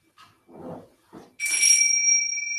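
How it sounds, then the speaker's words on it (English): A bright bell rings out clearly and sustains with a steady ringing tone, after a few soft vocal sounds. "I have my beautiful bells"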